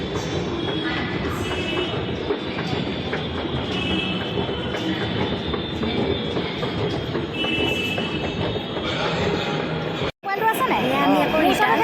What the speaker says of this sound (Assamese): মেট্ৰ' আহি পাইছেহি, আমি মেট্ৰ'ত উঠিম আৰু।